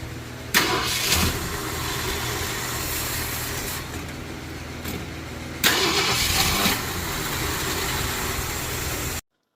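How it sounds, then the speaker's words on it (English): A 1965 Ford Galaxie 500 engine with its ignition timing out cranks and catches twice, each start a loud burst that settles into a steady, rumbling idle close by. "we're going to try and do a little startup here"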